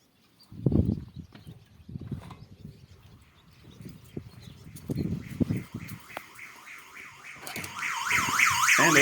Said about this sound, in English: the alarm is working.